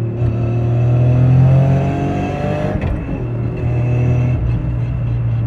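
A 600bhp tuned Toyota GR Yaris accelerating hard, its engine note rising in pitch, breaking briefly at a gear change, then climbing again, loud and close from inside the car.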